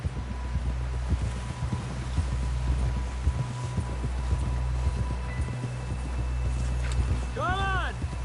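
Steady horse hoofbeats in a video game clop along under a low rumble as voices talk over them, with a brief chirping call near the end.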